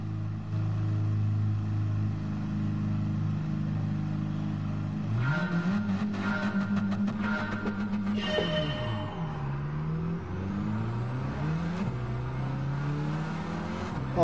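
Mini car engine racing against a Porsche 911 Carrera in Gran Turismo 7, cockpit view: a steady drone gives way to loud rising revs, sharp gear-change dips and climbing whines, with no talk.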